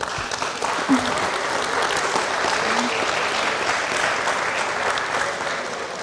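Sustained audience applause fills an awards ceremony for the 2018 Formula SAE Michigan competition, a dense, even wash of many hands clapping at once for about six seconds with no break.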